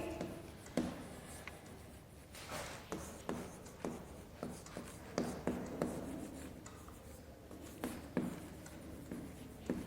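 Pen scratching on paper as a formal letter is written by hand in an English class, close and quiet, with steady strokes and repeated taps at a regular pace and no talking over it.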